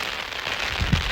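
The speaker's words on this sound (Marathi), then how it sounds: "मस्तपैकी पाऊस चालू झालाय." Heavy rain pours down on an Indian goat farm, a steady dense hiss that fills the whole moment, with a brief low thump near the end.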